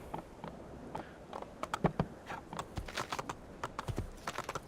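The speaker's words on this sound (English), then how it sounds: "Your only mode of transport is this horse, which is kind of cool." Horse hooves clip-clopping in Assassin's Creed II, a steady run of light, fairly close hoof taps with some irregular rhythm, heard alone without talk.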